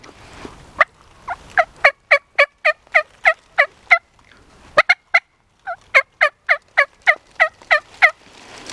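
A wild turkey gobbler, or a series of close, rapid, repeated calls from one, sounds loud and clear in two long bursts of sharp rhythmic notes with a short quiet gap between.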